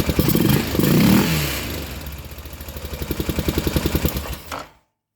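A 2003 Honda Rincon 650 ATV engine, bogging and low on power, revs hard, then drops to a rhythmic chugging putter that slowly builds before cutting off abruptly; loud and close.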